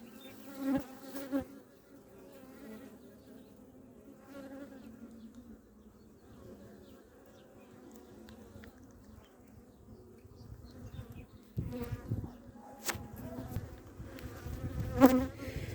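Honey bees in a calm split hive that has rejected its queen give off a soft, steady hum up close, with a few louder buzzing bees passing near the end.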